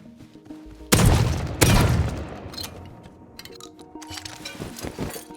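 Two automated turrets in a survival video game let off two loud, close blasts about a second apart, followed by quieter scattered pops and thumps.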